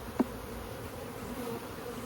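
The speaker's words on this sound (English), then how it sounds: "We have a lot of bees in this hive," Honey bees hum in a dense, steady drone inside a booming hive, one bee buzzing briefly close by against the constant low-level swarm, with no talking.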